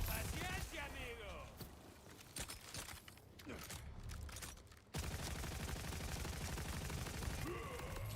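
Shotgun fire in Borderlands 4, dense repeated blasts and rapid shots running throughout, loud and close, mixed with game effects while a player talks over it.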